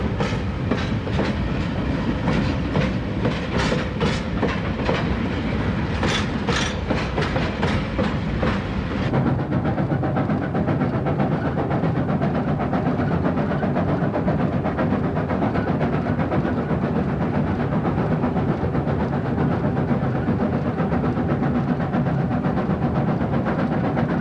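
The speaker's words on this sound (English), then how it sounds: "the Chinese government provided a special train for the expedition" A special expedition train with freight cars, passenger coaches and a dining car rolls along a railway in China, a loud steady rumble with rhythmic clickety-clack wheel beats early on, settling into continuous rolling noise.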